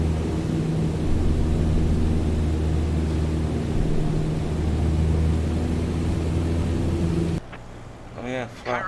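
Steady droning engine and airflow roar of a Cessna on final approach in Microsoft Flight Simulator 2020, loud and continuous, cutting out near the end as someone speaks.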